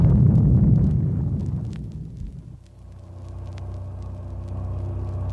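Heavy explosions open with a booming rumble, loud and dense, then fade into a steadier droning speedboat engine roar that builds again, with no voices.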